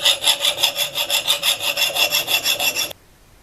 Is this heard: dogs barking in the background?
no